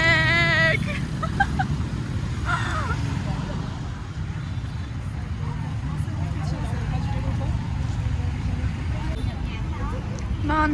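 Street traffic in Ho Chi Minh City, heard as a steady rumble of passing vehicles with a brief human voice at the start and faint crowd murmur throughout.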